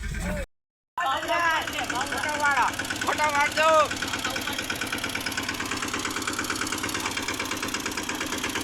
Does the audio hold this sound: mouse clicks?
no